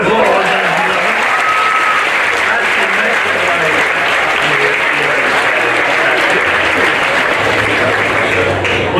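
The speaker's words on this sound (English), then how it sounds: "Give her a big round of applause." Loud, sustained audience applause fills the whole stretch, a dense steady clatter of many hands clapping from a crowd at a stage show, with a few voices mixed in.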